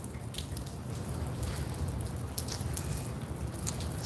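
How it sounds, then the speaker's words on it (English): Rain falls with soft, steady patter and scattered sharper drips close by, no voices present. "It's good that we're getting some rain."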